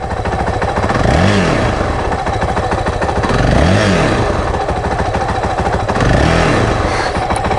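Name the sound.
Honda CRF450L engine running while clutch lever is pulled in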